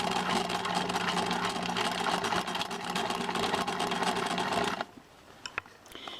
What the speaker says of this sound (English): I'm going to take it up to my machine, and I'm going to top stitch it in place.